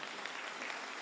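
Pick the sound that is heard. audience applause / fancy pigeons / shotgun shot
audience applause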